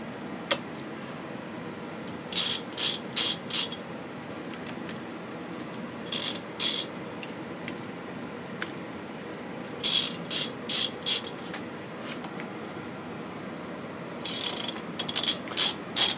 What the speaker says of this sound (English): time to pull these head bolts out.